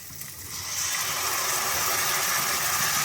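Onion, tomato and ground spice paste frying in a pan for an egg curry, a steady broadband sizzling hiss that swells within the first second and then stays loud and even, with no voices.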